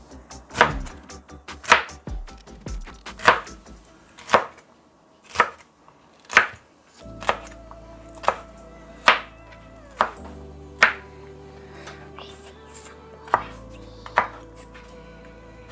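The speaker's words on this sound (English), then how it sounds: "I'm just making sure there's no really big pieces that miss the dicing" A knife dices red pepper on a cutting board for a quiche, giving a steady series of sharp, close chopping taps that come about every second.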